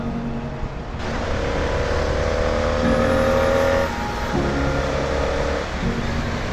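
Road traffic accelerates with a close, loud engine surging and revving, holding a steady droning pitch before dropping and rising again as the vehicle pulls away.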